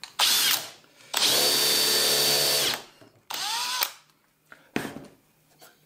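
A power drill runs in reverse through melamine board in several bursts: one short, one long sustained whine, then a briefer run and a few quick clicks and taps, loud and close.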